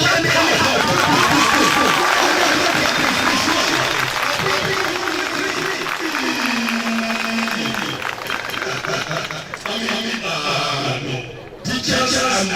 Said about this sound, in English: Please, clap anyhow.